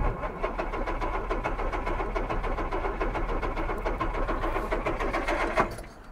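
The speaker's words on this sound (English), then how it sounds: "Shall I try the starter button in here?" A 1962 Jaguar that sat unused for 15 years cranks on its starter button, a rapid, even, rhythmic churning that holds for about five seconds before stopping with a short clunk.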